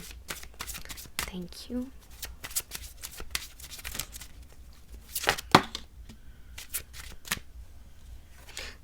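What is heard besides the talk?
shuffling tarot cards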